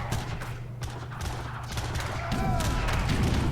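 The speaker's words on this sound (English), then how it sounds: "One cannon volley goes off" Cannon volley in a strategy battle video game, a dense rumbling roar of massed gunfire and crashes that swells louder in the second half, close and continuous.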